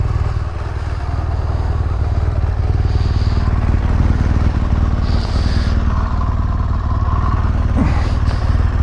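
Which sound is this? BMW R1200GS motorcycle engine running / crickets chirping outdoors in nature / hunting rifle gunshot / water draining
BMW R1200GS motorcycle engine running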